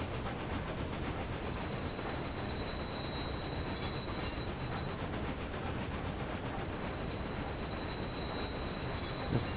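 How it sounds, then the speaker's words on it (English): A train rolls steadily along the tracks in the railway management game Railway Empire 2, a dense continuous rumble with a faint high whine running through it, loud and alone without voices. "Still a train moving ahead of me."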